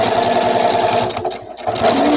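Close and loud, a sewing machine stitches a quilt binding seam with a steady rapid whir that dips briefly in the middle before resuming at full speed.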